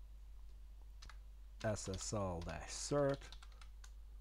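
Fingers type a Linux command on a computer keyboard, producing a few soft, scattered key clicks. A person then talks over the clicks and they fade into the background.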